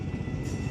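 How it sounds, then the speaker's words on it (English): A train rumbling past a railroad crossing, a loud continuous low roar with faint rhythmic rail clatter, heard close from a stopped vehicle, with no talk. "that's a fucking train"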